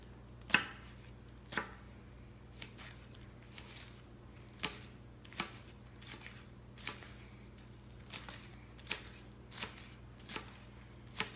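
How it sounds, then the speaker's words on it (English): Knife chopping two green onions thinly on a cutting board for tuna salad, a steady run of crisp, close taps roughly every second, with no talk over them. "And I'm going to chop up two green onions. Just chop them thin."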